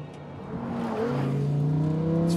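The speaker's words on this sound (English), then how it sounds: "this is what the Lambo is like to drive on the track." Lamborghini Huracán EVO RWD, a mid-engine car, accelerating on a race track, its engine note rising steadily in pitch and growing louder, heard from inside the cabin.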